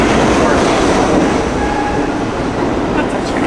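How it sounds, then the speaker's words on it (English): A train rumbles past in New York City, a loud continuous roar with faint metallic squeals, heard up close. "That's a train."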